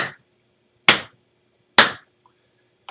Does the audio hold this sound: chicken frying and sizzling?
no